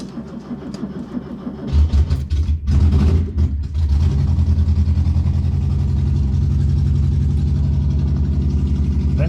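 A barn-find Škoda 105 engine, not run for weeks and started with the choke on, cranks for a couple of seconds, coughs and catches, then settles into a loud, steady, lumpy idle close by.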